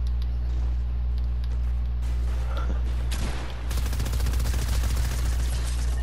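SMG gunfire in an online shooter game, rapid bursts of shots crackling over steady background game sound, with a loud dense stretch toward the end.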